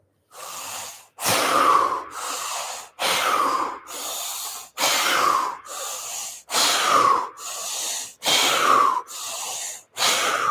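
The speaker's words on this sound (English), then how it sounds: "6 big breaths followed by a stage breath." Deep, loud breaths repeat in a steady rhythm during a fascial stretching exercise in a stepped-back lunge, each one long and forceful with short gaps, close and clear with no talking.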